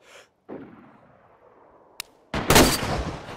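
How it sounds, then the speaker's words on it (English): A sniper rifle shot in the DayZ video game, a single sharp crack followed by a loud burst of noise, set among faint rustling and quiet background sound. "I'm gonna try to snipe him."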